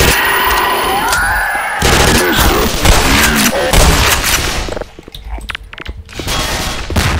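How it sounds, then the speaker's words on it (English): Grenade blasts and bursts of gunfire in the Black Mesa 2009 Half-Life 2 joke mod hammer away loud and close, with chaotic overlapping shots, a brief lull near the middle, then more firing. "Everybody's throwing grenades. Too many grenades going around, you guys."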